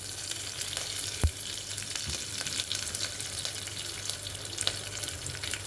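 Curry leaves crackle and sizzle in hot oil for a sambar tempering alongside dried red chillies, a steady close frying hiss with scattered sharp pops and a couple of soft clunks.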